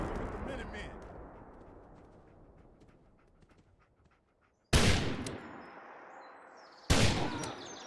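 Two loud, sharp gunshots from a gun in Fallout 4, spaced about two seconds apart, each with a decaying tail, after a quieter stretch with a voice talking early on.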